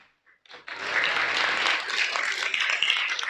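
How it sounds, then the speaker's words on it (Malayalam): An audience bursts into loud clapping after a brief quiet start, a dense, sustained round of many hands that holds steady to the end, with a low hum underneath. "please clap"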